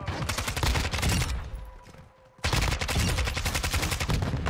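Rapid automatic gunfire in Call of Duty Modern Warfare 2 from an AK74U setup, loud and continuous, breaking off into a brief near-silence midway before resuming just as hard.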